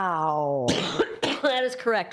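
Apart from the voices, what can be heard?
cough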